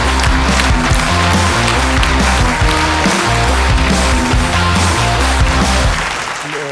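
Studio audience on an Armenian TV show applauding to welcome a guest: dense, continuous clapping that stays loud and even throughout, then eases slightly at the very end.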